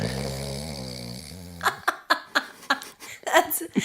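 A person mimics snoring with a series of short, rhythmic snorting breaths, close up, after a few seconds of humming tones.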